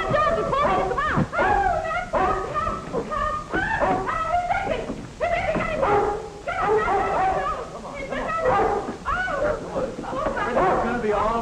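A dog named Princey barks, yips and whimpers in rapid, agitated bursts close by, mixed with people talking.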